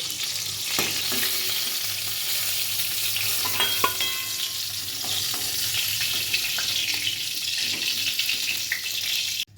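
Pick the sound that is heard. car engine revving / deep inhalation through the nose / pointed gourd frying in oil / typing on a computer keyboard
pointed gourd frying in oil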